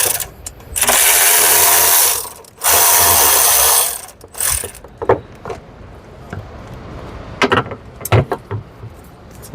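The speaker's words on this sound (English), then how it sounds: "So we'll just use the ratchet, remove this, and as well as this." A ratchet works loose 10 mm bolts on a 2020+ Toyota Tundra during cab removal. Two long, loud whirring bursts are followed by scattered clicks, clanks and tool handling up close.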